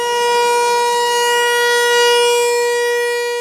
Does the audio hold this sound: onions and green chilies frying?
no